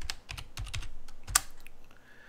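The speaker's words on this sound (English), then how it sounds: "And then once you do that, type in your password." Typing a password on a computer keyboard, a rapid series of close key clicks in quick bursts, ending in one sharper keystroke and a brief pause, with no talking.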